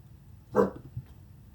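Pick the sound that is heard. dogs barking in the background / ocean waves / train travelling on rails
dogs barking in the background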